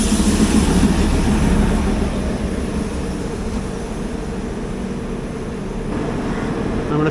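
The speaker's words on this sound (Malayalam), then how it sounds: "ഇപ്പോഴത്തെ മീൻ വൈൽ പ്ലാറ്റ്ഫോം നമ്പർ 1 ഒരു OHE മെയിൻ്റനൻസ് കാറ് കടന്നു വരുന്നുണ്ട്" An OHE maintenance car rolls past railway platform number 1, a steady low rumble and rattle of wheels on rail that holds fairly loud and even throughout, with a slight swell near the end.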